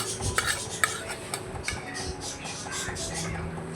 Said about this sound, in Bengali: গ্রেট করা ডিমটা ঝোলের মধ্যে মিশিয়ে দিলাম